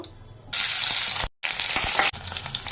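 White cumin and tomatoes hit hot oil in a pan for a shutki curry with bean seeds and small eggplants, a loud, hissing sizzle that bursts in, breaks off briefly, then roars on.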